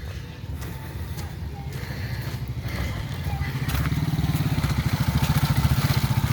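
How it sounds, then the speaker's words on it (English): A motorcycle carrying three riders passes by on the street, its engine drone rising and growing louder as it approaches, a steady pulsing rumble under faint background clatter. "That's only 3 people on a motorcycle."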